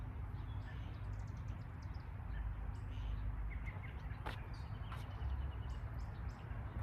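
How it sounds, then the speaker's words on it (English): Faint birds chirping outdoors in the background, scattered short tweets and calls over a steady low hum of ambient noise. "Hear those birds in the background."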